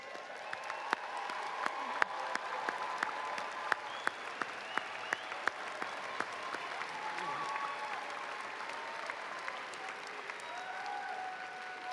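A crowd at a college pre-commencement ceremony applauds with sustained clapping and faint cheers. The sound is steady and even, heard from a moderate distance.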